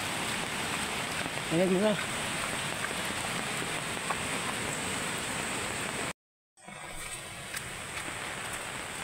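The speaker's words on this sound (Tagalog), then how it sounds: "Umulan lakas." Heavy rain pours during flooding, a steady, dense hiss that fills the background. A voice briefly speaks over it, and the sound cuts out for a moment near the end.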